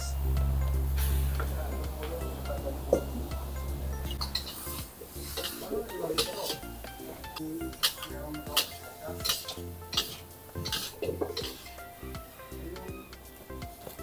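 A spatula or spoon scrapes and clinks in a pan while fried rice for beef chaofan with cabbage and sesame oil is stirred. The clinks come in an irregular run of sharp taps over a low background hum.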